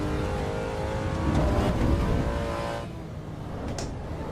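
A car engine in the Assetto Corsa EVO racing game drones and revs steadily, swelling near the middle, then drops to a lower hum after a gear change or lift, loud and close with no talk.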